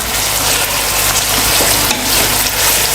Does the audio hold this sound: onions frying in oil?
yes